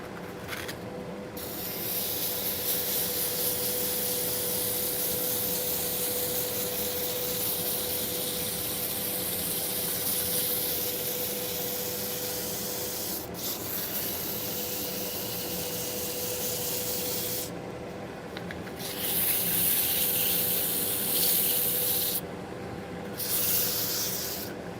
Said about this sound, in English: Now to sand a little bit.